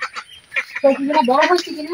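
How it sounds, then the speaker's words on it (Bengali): Ducks and hens gather near a person who has just fed them, with a burst of honking, quacking calls rising over a few seconds, close and fairly loud, after a short stretch of speech. "আমার হাঁস মুরগি সবাই চলে আসছে, খাবার খাইবো এই কারণে এসে পড়ছে"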